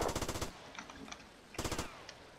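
An Uzi fires in GTA Vice City: two short, rapid automatic bursts separated by a pause, with a few faint scattered shots and clicks between them.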